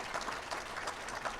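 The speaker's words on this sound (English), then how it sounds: "Let's give a round of applause for our" An audience claps for a panel at an event, a dense, even patter of many hands over a brief stretch.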